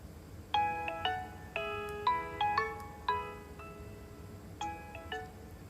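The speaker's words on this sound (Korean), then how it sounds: "진솔 언니 전화해볼까?" A phone call ringtone plays a melodic chiming pattern in short repeated bursts, fairly quiet and alone with no talking.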